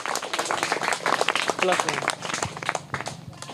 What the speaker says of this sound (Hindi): चलिए करेक्ट आंसर है, जोरदार तालियां इनके लिए।